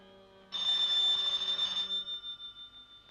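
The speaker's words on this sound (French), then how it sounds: "le téléphone" A telephone bell in a 1972 French television drama rings loudly and continuously for over a second, then its ringing pulses fade into a series of decaying rings.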